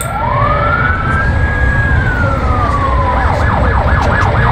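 A police car siren in a chase game, loud and close, rising in a long wail then switching to a fast yelping warble over engine rumble.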